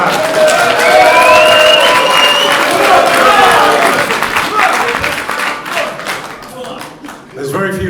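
Audience at a boxing press conference for two heavyweight boxers bursts into loud close applause with cheers and shouts, the clapping thinning out toward the end as voices talk over it.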